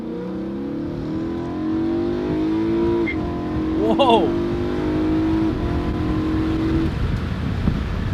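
A BMW E90 M3 engine idles then revs sharply, with a rising, falling rev in the middle over a steady rumble; a person exclaims over it.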